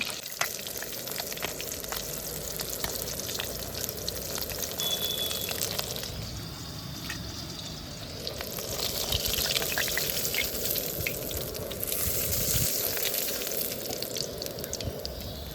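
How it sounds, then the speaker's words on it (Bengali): Live catla fish frying in oil during a roadside cooking stop makes a steady crackling sizzle with sharp pops and spatters, swelling louder partway through and continuing without speech. "মাছ ভাজা হচ্ছে বন্ধুরা"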